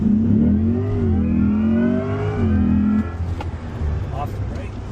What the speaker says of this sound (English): start rolling, and I'll tell you when to floor it